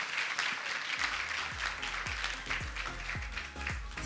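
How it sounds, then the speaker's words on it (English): Audience applause at a women's summit in Swakopmund, a steady wash of clapping through the clip while a deeper rhythmic thumping repeats beneath it. "Ladies and gentlemen, a warm round of applause for Colette"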